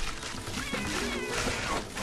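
A cat-like plant in Plants vs. Zombies 2 gives a short wavering meow-like cry over busy game music and effects, moderately loud.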